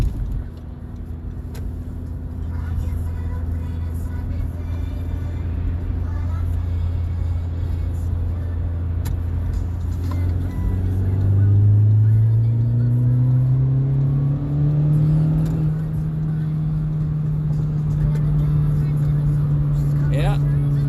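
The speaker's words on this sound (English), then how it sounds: "Acceleration on a Civic Type R." A 2017 Honda Civic Type R accelerates hard, its engine note droning low and steady before climbing sharply in pitch as revs rise, loud and close throughout with no talking.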